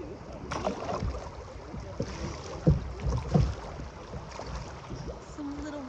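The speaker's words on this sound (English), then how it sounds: "Some little whitewater rapids right here." A kayak is paddled through small whitewater rapids in a creek, with rushing water and paddle splashes close by and a few louder splashes midway.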